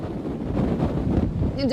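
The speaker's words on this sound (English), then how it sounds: "We've had 83-mile-per-hour gusts" Strong Hurricane Ida wind gusts of up to 83 mph tear along Canal Street in New Orleans, a continuous loud roar buffeting the microphone with rising surges throughout.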